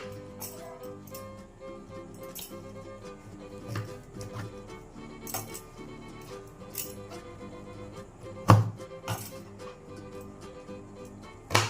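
Knife chopping baby corn on a cutting board in a home kitchen, a series of soft irregular taps with a few sharper louder chops near the end, quiet and close.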